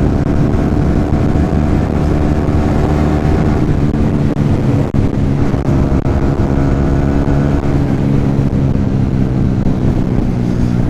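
A motorcycle engine drones loudly and steadily while riding, mixed with strong wind rush across the microphone, continuous throughout with no talking.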